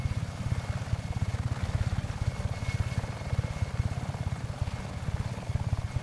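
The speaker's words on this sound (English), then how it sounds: "All I need is this attack helicopter" Attack helicopter in the Just Cause 3 video game, a close, loud, rapid rotor thumping beating steadily over a broad engine roar throughout.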